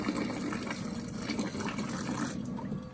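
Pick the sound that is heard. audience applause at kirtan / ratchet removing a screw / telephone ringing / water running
water running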